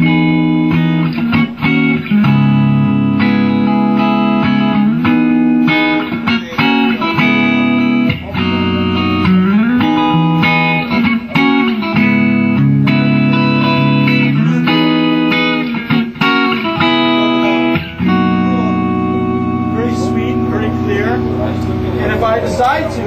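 Clean amp model on a Line 6 Spider amplifier with an electric guitar, bright bell-like chords and melodic lines ringing continuously and loud, with sustained notes and a denser strummed passage near the end.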